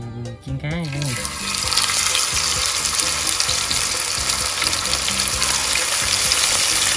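Fish frying in a pan on an outdoor cooking setup in the Mekong Delta gives a loud, continuous crackling sizzle after a brief burst of sound at the start; no clear speech.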